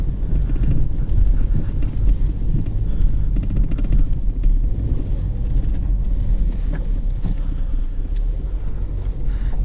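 A 2020 Ford Mustang EcoBoost convertible with automatic transmission rolls over bumpy pavement, giving a steady, loud low rumble of road and wind noise with uneven thumps throughout.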